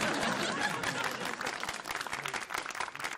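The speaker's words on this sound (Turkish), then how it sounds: "Hayatımda ilk defa birileri beni alkışlıyor abi." A studio crowd applauds a man during a staged scene in a Turkish television drama, with dense, steady clapping filling the whole stretch and a few scattered chuckles mixed in.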